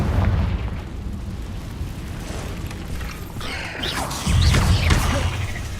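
Blasting Confringo spell explosions in a Harry Potter-style video game cave fight, heavy booms and bursts over a constant rumbling bed, with a louder, thicker blast near the end.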